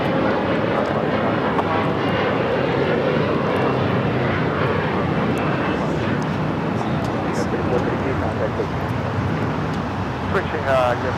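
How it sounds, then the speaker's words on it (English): A Korean Air Cargo Boeing 777 freighter arrives at LAX with a loud, sustained engine roar that holds steady and close throughout, its broad rumble carrying faint higher whine near the end. "This is Korean Air Cargo 8207 coming in from Seoul on the 777 freighter."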